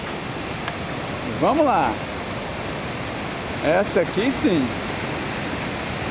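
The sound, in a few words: large waterfall roaring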